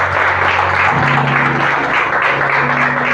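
Congregation applauding during a Spanish-language church sermon, a dense, steady wash of clapping that stays loud and even throughout, with a low hum beneath it.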